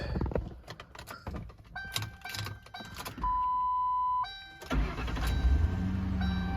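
Starter cranks on a 2008 Ford Crown Victoria LX sedan and its engine fires up, followed by steady idle, with a sustained warning chime and jangling keys heard nearby before the start.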